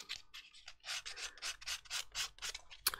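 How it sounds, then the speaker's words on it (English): Edges of a Warhammer model are sanded by hand in quick, rhythmic rasping strokes, about a dozen short scratchy bursts, close but soft, with a small click near the end. "this sanding is a complete waste of time"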